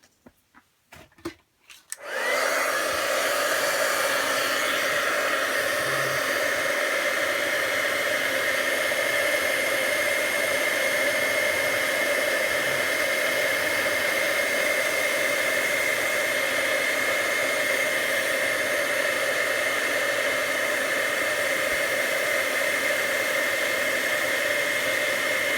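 A heat tool blows a loud, steady hiss to melt embossing powder, switching on after a couple of brief clicks and running continuously at close range.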